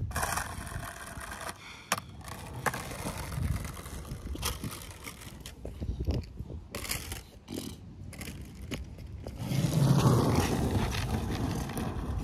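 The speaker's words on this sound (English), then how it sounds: "Because of this wind is screwing up my hard flips." Wind gusts buffet a microphone outdoors at a flatground skateboarding session, a steady rumbling roar that rises and swells louder near the end, with scattered board clatter and scrapes mixed in.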